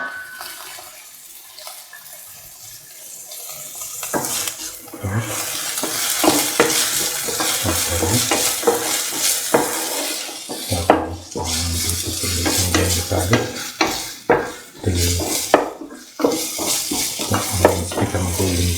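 Ginger and garlic fry with onion pieces in a pan, a quiet start that swells into a strong, close sizzle broken by repeated spoon scrapes and clinks against the pan.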